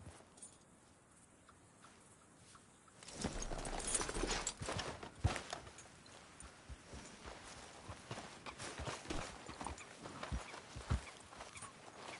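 Horse hooves clip-clop in a Red Dead Redemption game: after a quiet start, a steady run of close hoofbeats sets in, with occasional sharper thuds standing out over the rhythm.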